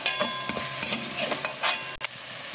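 Spice masala fries in a pan with a little water for a baby jackfruit curry, giving a soft sizzle broken by scraping and stirring strokes of a metal spoon against the pan.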